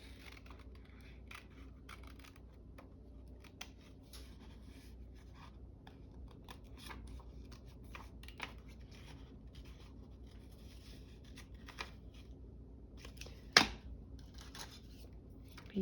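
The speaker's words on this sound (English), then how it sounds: "I use the decal scissors to cut out, because the decal makes fur work." Decal scissors snip through paper in quiet, scattered cuts amid faint rustling close by, with one sharper crisp snip standing out near the end.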